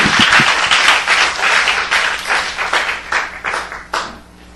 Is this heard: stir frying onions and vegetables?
no